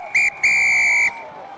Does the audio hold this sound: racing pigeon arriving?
no